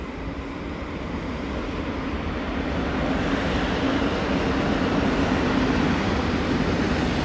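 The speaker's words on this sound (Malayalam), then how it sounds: "ഇതൊരു ഗുഡ്സാണ്." A goods freight train passes on the railway at Charlapalli station, a steady broad rumble that swells after the first couple of seconds and holds loud and continuous with no voices over it.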